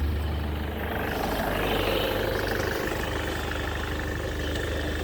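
A 2005 Volkswagen Jetta with a bad fuel pump runs after its air intake is sprayed, holding a steady, deep engine drone with a low rumble, close and unbroken throughout.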